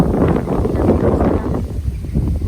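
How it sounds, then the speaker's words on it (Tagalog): Wind rushes steadily across the microphone in a low, constant roar, fading slightly near the end; no one speaks. "ganyan yung lakas ng hangin dito"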